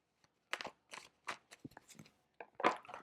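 Tarot cards being shuffled by hand in a quiet room, a series of brisk riffling and slapping bursts with short pauses between them, no talk.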